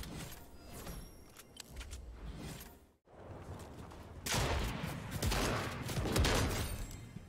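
Rapid gunfire from the video game Fortnite, bursts of shots crackling loudly and densely with a brief pause midway, then a heavier, sustained volley toward the end.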